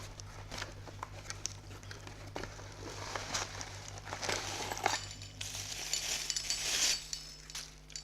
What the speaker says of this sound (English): Sorry for the rattling noise.